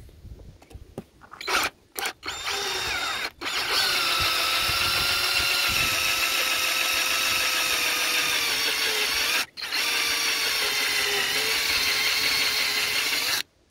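A drill bores out a screw on the front brake master cylinder of a 1988 Honda GL1500, giving short starting bursts and then a long, steady, loud whine close by with one brief break.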